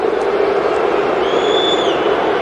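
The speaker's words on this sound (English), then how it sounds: "The Olympic Stadium crowd showing their dissatisfaction here" Large Olympic Stadium football crowd at a 1977 CFL game between Saskatchewan Roughriders and Montreal Alouettes, voicing dissatisfaction as a steady, dense roar of murmuring and jeering that holds loud throughout, with a faint whistle-like tone rising briefly near the end.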